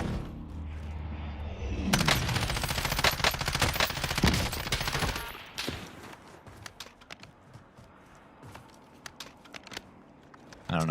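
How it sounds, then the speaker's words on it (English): Gunfire in the video game Warzone: sustained rapid automatic bursts, dense and loud at first, then thinning into scattered, more distant shots and cracks. "I don't know who's shooting at me."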